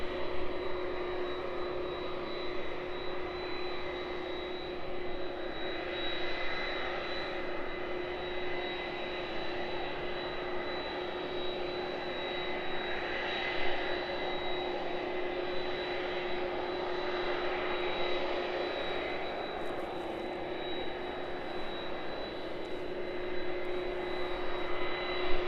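Aircraft engines idle at East Midlands Airport before the plane moves off, a constant loud droning roar with a steady high whine and low tonal hum, unchanging throughout with no voices.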